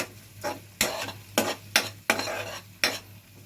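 Spices sautéing with tomato water in a pan, a spoon stirring in five or six distinct scraping strokes roughly every half second over a low sizzle, close and clear with no talk.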